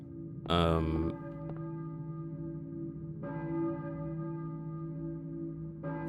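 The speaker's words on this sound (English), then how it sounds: "it's definitely a church bell" A church bell in the video game Silent Hill tolls slowly, three strikes a few seconds apart, each leaving a resonant hum ringing between them.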